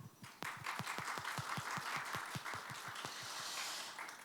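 A small audience gives steady, quiet applause to open a 2023 research results presentation at a Korean energy economics institute, with individual claps audible at a regular rhythm and the crowd sound fading near the end.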